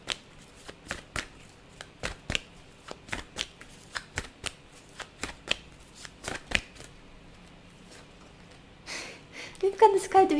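Tarot cards being shuffled by hand, a run of crisp, evenly spaced riffling snaps close to the microphone, then a pause and a final burst of handling noise at the end.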